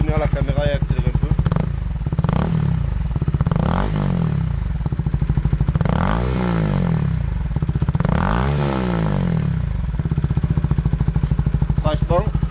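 A Honda CBR 125 fitted with an Akrapovic replica exhaust revs repeatedly, the engine note rising and falling in several swells over a steady loud idle, recorded close to the exhaust outlet.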